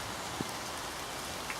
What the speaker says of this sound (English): You can see how heavy it's raining.